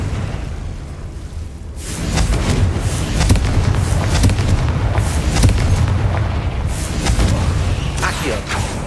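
A Confringo spell blast in the Hogwarts Legacy video game, a sustained booming explosive roar that swells after the first two seconds and rumbles on loudly, with crackling bursts layered over it and no talk.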